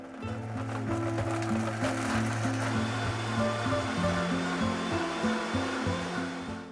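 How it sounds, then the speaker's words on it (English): A blender whirring on high while grinding dry umami seasoning ingredients into powder, a loud continuous motor drone with shifting pitch as the contents tumble, heard alone. "Blend on high until all the ingredients turn into powder."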